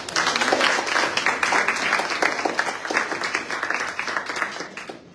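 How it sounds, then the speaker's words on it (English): Audience applause at a school debating competition semi-final, a dense, loud burst of many hands clapping that holds steady for several seconds before thinning out at the end. "Let's give them a round of applause."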